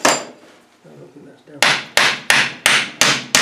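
Six sharp, ringing hammer blows strike a ring on a Rover 3500 steering box being rebuilt, falling in a steady rhythm about every third of a second after a few softer handling knocks.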